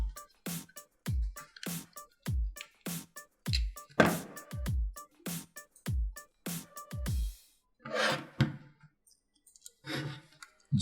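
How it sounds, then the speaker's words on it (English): Small screws being driven into a PS5 controller shell, heard as a close, quick series of sharp clicks and ratcheting ticks, then a few softer scrapes near the end. "And screw those in."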